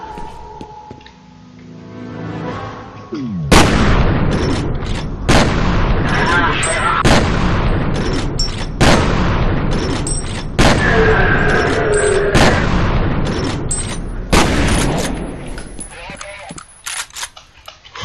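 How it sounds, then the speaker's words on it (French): A rapid series of loud explosions in the shooter game F.E.A.R., sharp booming blasts spaced about every couple of seconds with a dense rumbling barrage between them, close and forceful. "tu viens d'entendre une série d'explosions et des cris de douleur"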